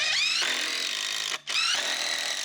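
A power driver sinks a screw into a wooden garden board with a loud, steady whine that breaks off for a moment and then starts again.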